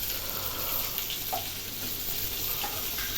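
A steady, dense sizzle of masala frying in a pan with a little water, close and constant, with no talking.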